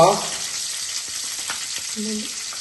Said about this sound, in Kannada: ಇದರಲ್ಲಿ ಕೆಲವೊಂದು ಐಟಮ್ ಅನ್ನು ಫ್ರೈ ಮಾಡ್ಲಿಕ್ಕೆ ಉಂಟು. ಫಸ್ಟ್ ಮೆಣಸು ಹಾಕ್ತೇನೆ.